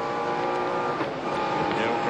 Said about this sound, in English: He's certainly dropped his revs.